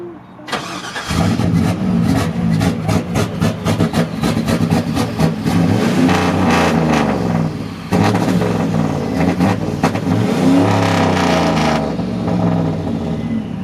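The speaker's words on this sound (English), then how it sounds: "that was the truck revving it?" A boosted LS-swapped Chevrolet C10 pickup truck engine roars and revs loudly and continuously, rising and falling in pitch with rapid pulsing throbs, close up; its idle won't stay steady.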